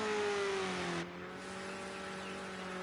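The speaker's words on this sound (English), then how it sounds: "He's really revving the engine to his maximum, which really is quite impressive." A Subaru rally car in a Group A rally event holds its engine at high revs near 7,000 rpm, a loud, sustained drone with a sharp drop in pitch and level about a second in before steadying again.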